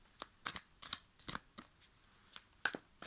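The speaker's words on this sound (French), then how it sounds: "je vais évidemment recouvrir les cartes" Tarot cards riffle and slap together in a quick series of crisp, close shuffling bursts, with short pauses between them and no voices.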